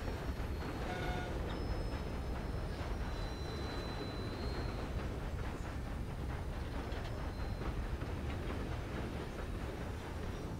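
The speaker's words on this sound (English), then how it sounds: "Granted, Arthur, you are on a train." Train rolling along rails in the video game Red Dead Redemption 2, a steady dense rumble of wheels and carriage noise throughout, with faint high squeals early on and no talking.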